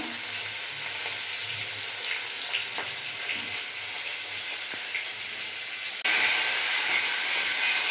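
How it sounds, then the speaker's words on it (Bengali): Fish frying in oil in a pan over a high gas flame, a continuous close sizzle and hiss with small pops, rising louder for the last couple of seconds, no voices. "এবার বাকি মাছগুলো আমি দিয়ে দেবো। গ্যাসের ফ্লেমটা বাড়িয়ে দেবো।"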